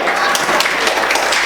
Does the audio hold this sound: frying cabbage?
no